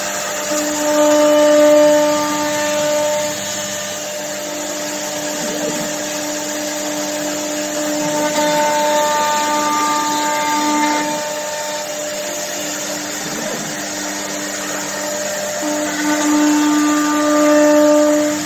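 An AXYZ Panel Builder 5012 CNC router running a test cut, a steady loud whine from the spindle and dust extraction with shifting tonal hums as the tool moves, sustained with no talk.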